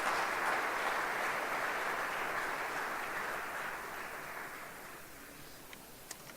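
Audience applause at the IAA World Congress 2019 fills the hall as a broad wash of clapping, steady and full at first, then gradually thinning and fading toward the end with a few isolated claps.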